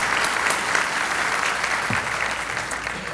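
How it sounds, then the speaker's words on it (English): Audience applause at a community breakfast event fills the room as a steady, dense patter of many hands clapping, loud and continuous throughout. "A big round of applause, please."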